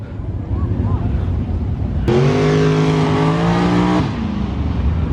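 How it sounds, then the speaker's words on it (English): Racing trucks roar past at speed on a track, a loud droning rumble that swells suddenly and holds before easing, with voices partly under the noise. "I think these are trucks racing right now."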